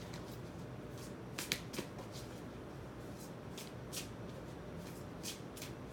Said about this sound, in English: So if I'm taking too long to shuffle